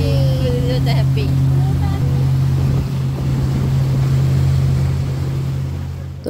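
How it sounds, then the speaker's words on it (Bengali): A boat engine drones steadily and loudly through a river crossing in Dubai, its low hum constant under wind buffeting the microphone, with brief voices and higher calls near the start. "তো বোট দিয়ে হচ্ছে আমরা এই পার থেকে ওই পারে আসলাম।"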